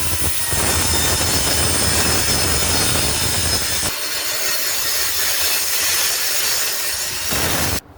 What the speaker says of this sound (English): I'm going to rip it into 1 1/8 by probably about a 1/2 inch for gunnels.